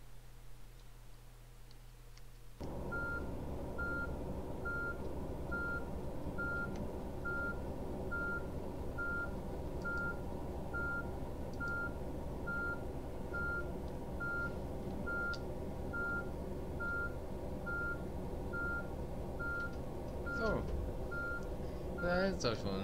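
A bus in Fernbus Simulator backs up, its reversing alarm beeping in a steady even rhythm over a continuous engine hum, with a few clicks near the end.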